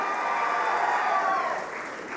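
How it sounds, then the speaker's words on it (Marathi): Dense audience applause greeting a politician at a public speech, steady and full through the whole stretch, tapering slightly near the end. "जोरदार टाळ्या वाजून त्यांचं स्वागत करा"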